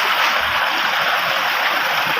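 Flowing stream water outdoors, a steady broadband rush and gurgle that stays even and fairly close throughout, with no voices over it.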